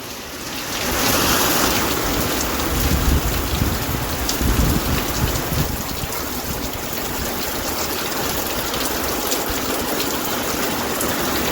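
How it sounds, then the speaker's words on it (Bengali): Torrential rain pours down steadily in a loud, close, continuous roar with splashing on surfaces, while low rumbles of thunder swell early on before the downpour settles into an even wash. "অঝরে পড়ে যাচ্ছে, অঝরে বৃষ্টি।"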